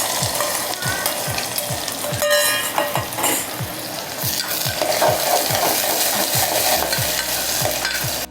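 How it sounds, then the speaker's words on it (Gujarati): Long-sliced onions hitting hot garlic in a pan for a gavar bean curry: a steady loud sizzle with a spoon scraping and stirring in a regular rhythm about twice a second, close up. "લસણ ગરમ થઈ ગયું છે તો તેમાં ડુંગળી સુધારી લઈ લેવાની છે."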